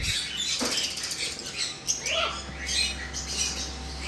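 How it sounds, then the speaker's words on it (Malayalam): A month-old jenday conure chick squawks nearby in harsh, rasping bursts that repeat over a steady background hum. "നമുക്കിതാ ഈ കാണുന്ന വന്നിട്ട് ജെൻഡേ കൊണിയറിൻ്റെ ചിക്കാണ്"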